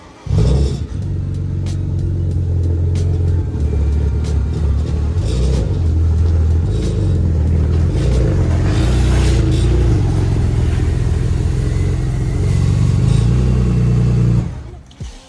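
A BMW 335i with an N54 engine runs and drives, giving a loud, steady low engine rumble with rising and falling revs for most of the stretch, close by and continuous, then cutting off near the end.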